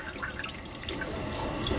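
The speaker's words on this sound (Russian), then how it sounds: "Воду слить надо." Water is poured off while trout fish soup is cooked outdoors, giving a steady close splashing and trickling of liquid with small drips throughout.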